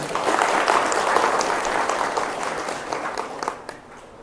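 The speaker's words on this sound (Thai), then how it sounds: "เอาปรบมือให้พ่อครูของเรานะ" An audience claps steadily, loud at first and slowly fading over a few seconds.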